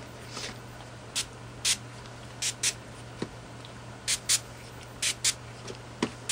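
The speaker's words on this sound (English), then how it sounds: "I'm going to be really careful and not spray a ton of it everywhere" Short bursts of spray mist, blue shimmer spray, hit an altered book box in several quick, separate puffs over a quiet background with a steady low hum.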